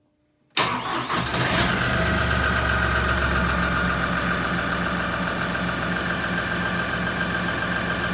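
An LS XR3135 tractor engine starts abruptly, then settles into a steady, loud, close idle that continues without pause, rumbling evenly as it warms up.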